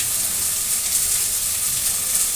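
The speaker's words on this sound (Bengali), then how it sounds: "এবার ভাজা আলুটা দিয়ে দেব। আরও 1 মিনিট ভালো করে নেড়ে চেড়ে কষিয়ে নেব।" Fried potato pieces for aloo dum are stirred and sautéed in a pan with spices, producing a dense, even hissing sizzle that holds steady and close for a couple of seconds.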